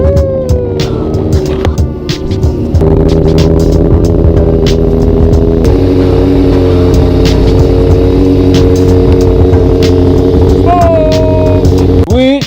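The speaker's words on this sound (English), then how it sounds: "So we got the bike fired up, it's running," A motorcycle engine runs loud and close after being fired up, a steady rumbling idle with occasional revs, while people talk over it.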